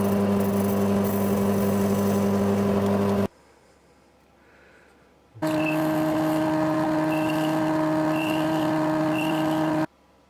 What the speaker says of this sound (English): Now I'm going to put them in the lathe, and I can cut twiddly little bits like that